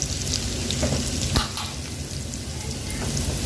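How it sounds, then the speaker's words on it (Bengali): Onions frying in a pan for a chickpea dish, giving a steady close sizzle with a brief clatter of stirring partway through and no voices. "এখানের মধ্যে পেঁয়াজটা ভাজি করে নেওয়া হচ্ছে"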